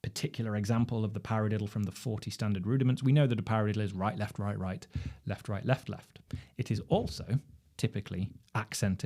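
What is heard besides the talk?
No everyday noises stand out.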